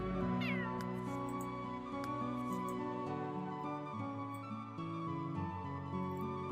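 A cat in the Sims 3 meows over steady, layered game music, with a clear rising meow near the start and the tuneful soundtrack carrying on throughout.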